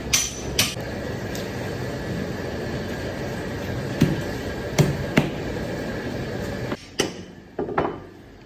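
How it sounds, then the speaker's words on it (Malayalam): Cuttlefish being cut into thick two-finger slices, with a run of sharp knife chops on a board over a steady background hum, the strokes spaced irregularly and fairly close. "ഇപ്പോൾ ഈ കട്ട് ചെയ്യണയാണ് ടു ഫിംഗർ സ്ലൈസ്"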